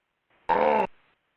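A person vocally imitates a car's door lock solenoid noise: one brief, nasal, droning burst that stops abruptly.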